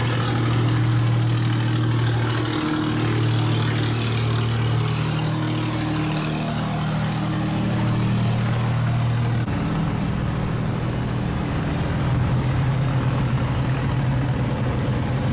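A loaded rice boat's engine drones steadily on a canal, a loud low hum with a continuous tonal throb that shifts slightly partway through, and nobody talks over it.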